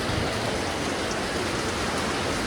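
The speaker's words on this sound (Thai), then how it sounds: "ฝนตกนะครับ" Heavy rain pours down steadily, a dense, even hiss with no breaks, loud and close throughout.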